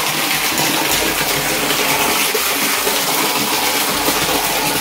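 Steady, close water gushing from a spring spout at the Ekeswar Mahadev temple, a dense continuous rush with no break and no voices over it.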